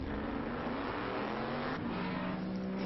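Guillaume Mahe's historic race car, a Cobra, finally pulls away on the grid at a circuit race, its engine droning steadily and loudly over continuous broadband track noise.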